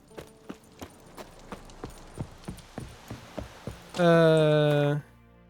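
A horse in The Witcher 3 trotting in steady clip-clop hoofbeats, about ten even strikes close by, followed by a sustained bright tonal chime or whinny-like burst near the end.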